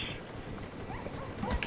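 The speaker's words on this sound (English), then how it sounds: "There's two of them! Damn it, dogs! Go away!" Dogs barking in the Call of Duty Black Ops video game, a short burst of yips and barks close by amid game noise, with a player's voice talking over it.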